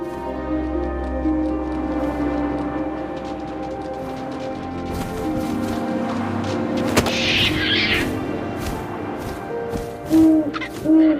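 Owl hooting in the video game What Remains of Edith Finch, heard as repeated hoots over a constant windy ambient bed, with a louder burst near the end.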